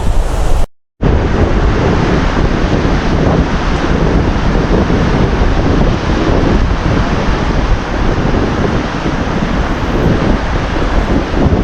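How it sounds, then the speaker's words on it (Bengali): Ocean waves breaking on the north-east beach of Saint Martin's Island, a loud continuous roaring surf with heavy wind buffeting the microphone, broken only by a momentary dropout near the start. "ঢেউটা দেখুন এই পাশ থেকে ঢেউ আসে এই পাশ থেকে ঢেউ আসে"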